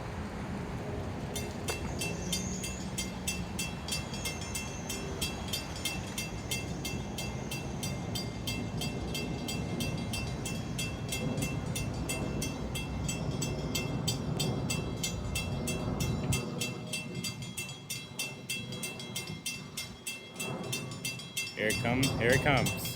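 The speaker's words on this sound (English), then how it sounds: "We got like a Montauk train coming up right now" A Long Island Rail Road Montauk diesel train approaching Bethpage, a steady rumbling roar with rail clatter building and growing louder toward the end, heard from trackside.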